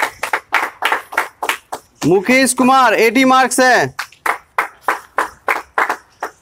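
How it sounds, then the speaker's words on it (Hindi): Steady, rhythmic hand clapping from a small group during a live announcement of mock test results for the Bihar SSC CGL exam. It carries on throughout while a voice reads out a name and score in the middle. "ताली की गड़गड़ाहट होनी चाहिए"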